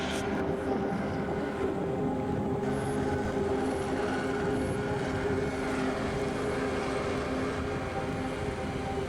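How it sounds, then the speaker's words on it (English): A helicopter flying over Los Angeles at night gives a steady, unbroken droning rumble with a faint whine, holding an even level throughout. "And that's a helicopter, I do believe."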